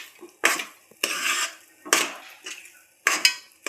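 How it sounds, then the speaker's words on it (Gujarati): Mango laddu mixture stirred in a pan over a low gas flame, four or five distinct bursts of spoon scraping and clattering against the pan, close and fairly loud, with quiet gaps between strokes and no voices. "સેજ કઠણ થાય તો સુધી આપણે હલાવશું."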